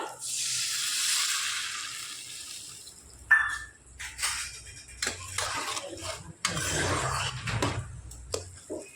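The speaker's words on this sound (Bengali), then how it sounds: "দিয়ে দিচ্ছি এবার হাফ বাটি পরিমাণে জল" Water is poured into a pan of spice-coated vegetables, a broad hissing gush at first, then scattered sizzles, splashes and clatters of stirring, moderately close with no talk.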